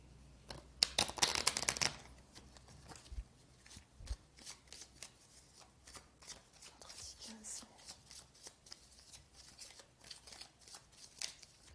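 Belline oracle cards are shuffled by hand nearby. A loud riffle comes first, followed by soft, repeated flicking and sliding of the cards, with faint bits of speech underneath.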